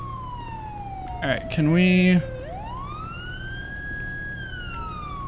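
Police car siren in the LSPDFR game, a wailing tone sweeping down and back up across the whole clip, loud and close, with a brief blaring burst near the start and someone speaking briefly over it.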